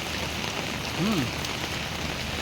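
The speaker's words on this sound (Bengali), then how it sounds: "আমাদের মুর্শিদাবাদে প্রচণ্ড হারে এখন আজকে বৃষ্টি হচ্ছে, দেখতে পাচ্ছেন।" Heavy monsoon rain pours steadily in Murshidabad, a dense, even hiss of drops striking surfaces close by, with a short faint vocal sound partway through.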